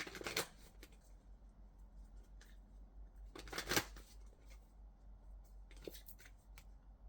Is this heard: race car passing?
no